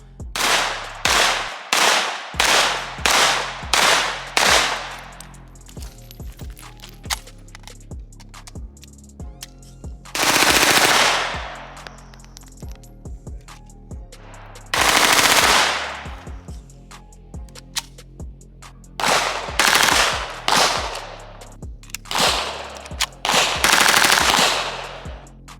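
Two Scorpion submachine guns fired akimbo, loud close bursts of rapid automatic fire, a quick string of shots first, then several longer sustained rattling bursts separated by brief pauses, with sharp cracks and no talking.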